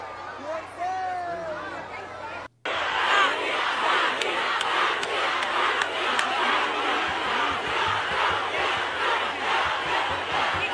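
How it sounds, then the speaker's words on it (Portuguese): A large crowd in Cajazeiras shouts and roars together at a carnival celebration, a loud sustained wall of voices that swells after a brief cut, with cheering under it. "Vamos ouvir o grito da galera"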